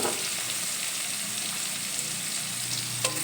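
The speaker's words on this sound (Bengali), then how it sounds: "পেঁয়াজ কুচি দিয়ে একটু নেড়ে চেড়ে নেব" Chopped onion stir-fried in hot oil after tempering spices: a constant fairly quiet sizzle with faint stirring scrapes and a small knock near the end, without any talking.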